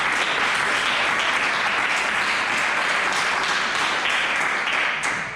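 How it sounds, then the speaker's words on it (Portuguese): A church congregation applauds loudly and continuously in a full, dense roar of clapping that holds steady for several seconds before easing slightly at the end, with no talk over it. "Dá um forte aplauso ao Senhor"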